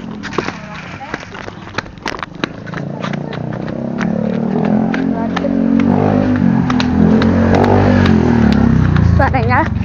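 Noisy cars driving nearby in a residential area, a low engine rumble that swells from about halfway through and continues steadily. People talk over it.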